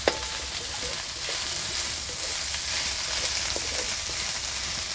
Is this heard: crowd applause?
no